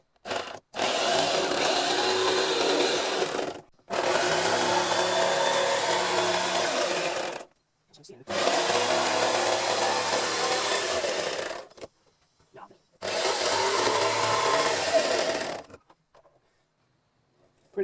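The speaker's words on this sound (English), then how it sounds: "Time for the jigsaw" Jigsaw cutting through a piece of wood in four long, loud bursts of buzzing with short silent pauses between them.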